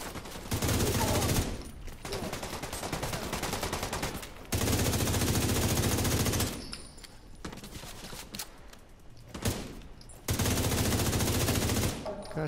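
Rapid automatic gunfire from Tom Clancy's The Division 2 comes in several sustained bursts separated by short pauses, with brief quieter stretches between volleys and no clear talk.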